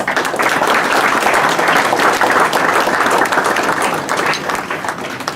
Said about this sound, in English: Ladies and gentlemen, please give him a big round of applause.